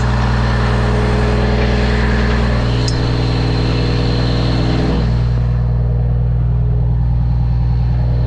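A car engine idles loud and close with a steady low drone, the throttle working while the transmission is shot; a higher whine fades out about halfway.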